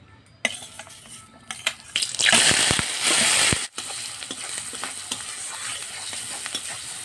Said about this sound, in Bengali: মশলাটা ভালো করে ভেজে নিয়েছি